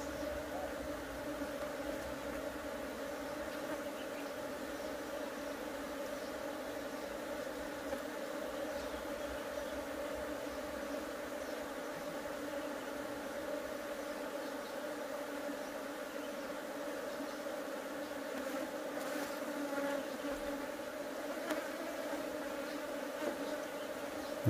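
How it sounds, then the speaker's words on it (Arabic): Honeybees buzzing in a dense, continuous drone around an opened beehive during a colony split at an apiary, steady and close throughout, with faint handling noises and no clear speech. "هذا فيه عسل ونحل"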